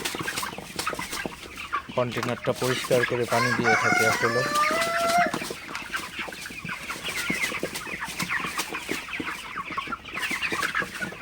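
Broiler chickens cluck and a rooster crows loudly near the start at night, while a person talks over the steady background of farmyard bird noise.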